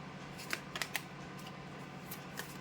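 Tarot cards drawn from a deck and laid down during a reading, heard as a few soft, quick card flicks and taps close by over a quiet room tone.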